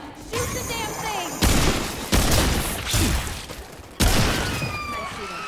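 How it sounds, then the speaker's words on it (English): Video game gunfire: several loud, sharp bursts of shots crack out at irregular intervals over a busy background, with voices talking in between. "Shoot the damn thing!"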